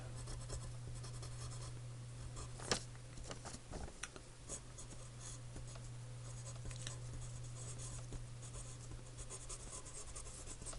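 Pen scratching steadily across paper, soft and close, with continuous small strokes and a slightly firmer tap partway through.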